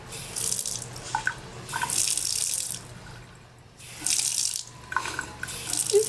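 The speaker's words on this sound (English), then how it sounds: "she's trying to very, very gently open up the water so she has a small stream" Water from a sink tap opened gently to a small stream, running in bursts that start and stop several times, fairly close and steady, with no talking.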